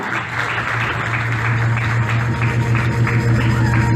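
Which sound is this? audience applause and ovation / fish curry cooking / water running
audience applause and ovation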